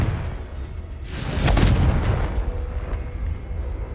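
A Confringo spell explodes in the Hogwarts Legacy video game, a single loud booming blast swelling around the middle of the clip and fading into a rumbling tail, with no voices.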